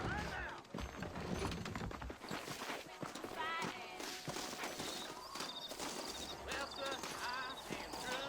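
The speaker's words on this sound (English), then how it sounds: "You ain't gonna find sturdier horses than these in all of New Ulster." Horses' hooves clop steadily while riding in Red Dead Redemption, a brisk running rhythm kept up throughout beneath ongoing conversation and other in-game sounds.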